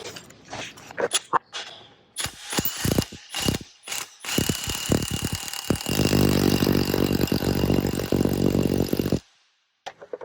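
A Snap-on MG325 3/8-inch impact wrench tightens a fresh nut and bolt on a flywheel. Bursts of loud, close hammering start and stop, then it holds one sustained rattling run before cutting out.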